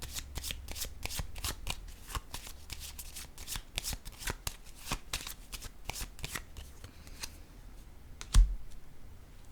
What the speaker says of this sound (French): je vais piger une autre carte sur le masculin qui a peur